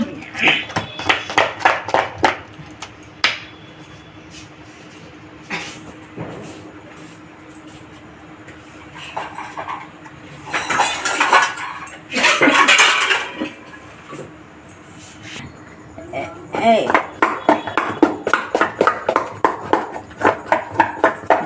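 Lentil batter for dahi vada being whisked by hand in a bowl, quick rhythmic clattering strokes in bursts with pauses between, plus a few louder scraping knocks, no voices.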